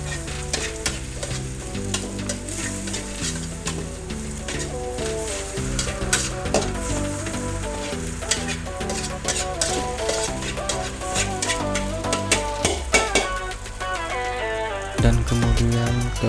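Beaten eggs fry and get stirred in a hot wok for village-style nasi goreng, a steady close sizzle with scraping stir strokes running throughout and no voices.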